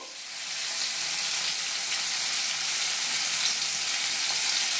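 Garam masala, tomato and paneer stirred in a hot pan, making a steady frying hiss and sizzle that swells slightly at the start and then holds evenly, close and without voices.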